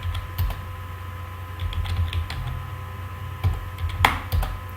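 Typing on a computer keyboard while entering a reference number in Tally accounting software, with a quick irregular run of close, crisp key clicks over a low steady hum.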